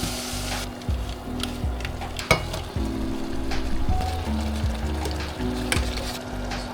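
Chapagetti noodles sizzle steadily in a generous pour of olive oil in a pan, with close, continuous crackling and a few louder stirring knocks and scrapes.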